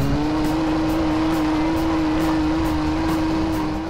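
Lamborghini Aventador in the racing game NFS World held in a burnout, wheels spinning: a steady, loud, droning engine-and-tire whine that stays constant and close throughout.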